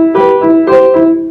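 Piano quavers in a Baroque-style disco exam piece sound too smooth and connected, a short run of sustained, overlapping notes played close and clearly with no voices.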